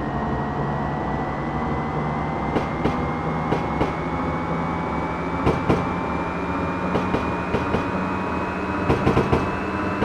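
A JR 201 series electric train on the Chuo Line accelerates in a video game, with a rising motor whine and steady rumble, broken by periodic clacks as wheels pass over rail joints.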